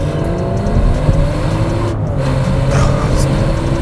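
A 2023 BMW X7 seven-seat SUV drives under load as its engine note rises and settles through smooth gear changes, loud and close from inside the cabin with constant road noise and no talking.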